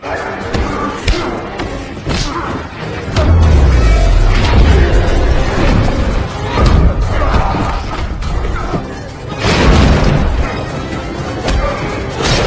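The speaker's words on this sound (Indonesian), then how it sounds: "Jake langsung meledakkan bom suara." A sound bomb goes off in an action film fight scene, with heavy booming thuds and crashing impacts that come in loud bursts over a dense, chaotic soundtrack.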